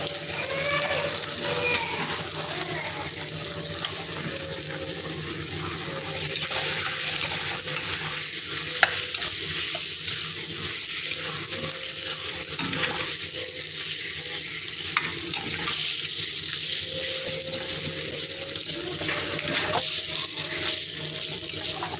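Chicken is added to a pan for Pallipalayam uppu kari and fries with a steady, loud sizzle that lasts throughout, over a faint running hum, with no talking.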